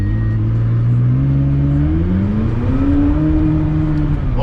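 McLaren engine revving through a quick downshift on a late-night London drive, heard from inside the cabin as a loud, steady engine drone with rising and falling pitch sweeps as revs climb, no voices.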